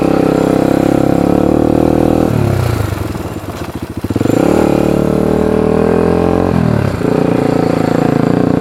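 A clutch-shifted quad engine runs loud and close, revving steadily, dipping briefly as gears shift with rev-matching, then climbing again.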